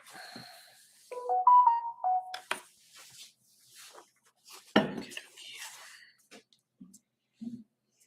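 A phone ringtone plays a short run of melodic tones, fairly faint, surrounded by scattered speech and breathing.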